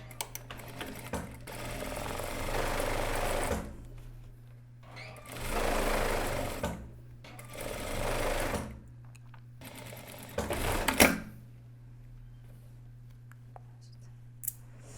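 Domestic sewing machine stitching the leftover seam margin on a loose, made-to-measure shirt, running in three or four separate bursts of a few seconds each with quiet pauses between, ending in brief clicks.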